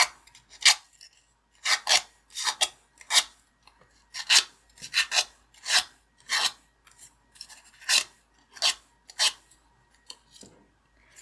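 Repeated short rasping scrapes of scissors curling a paper flower petal, about a dozen brisk strokes in an irregular rhythm, close up with no talking.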